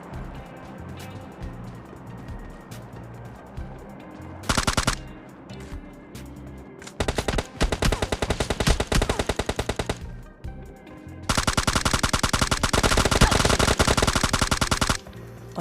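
Automatic gunfire from PUBG Lite comes in several loud, rapid bursts, including a long sustained spray near the end, separated by quieter stretches of game ambience.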